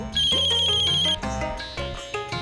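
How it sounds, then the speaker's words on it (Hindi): A phone ringtone rings loudly with a bright melodic tone, repeating in short phrases over about two and a half seconds, with no talk over it. "ये किसका फोन है?"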